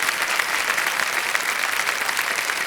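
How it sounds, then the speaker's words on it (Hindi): A studio audience on the KBC India quiz show claps in a steady, dense burst of applause, sustained at full volume throughout with no talk over it. "तालियां बज जाएं इनके लिए।"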